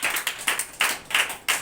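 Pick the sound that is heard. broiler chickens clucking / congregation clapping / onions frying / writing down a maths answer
congregation clapping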